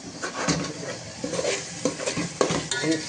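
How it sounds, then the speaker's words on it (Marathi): Soaked chana dal being stirred in hot spiced oil in a pot at home, a close sizzle with repeated scraping strokes of a spoon against the metal pan at an irregular rhythm. "5-1 मिनिट त्याला ढवळून घेतलं"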